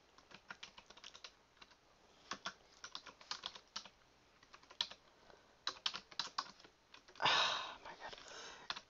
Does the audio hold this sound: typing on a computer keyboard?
yes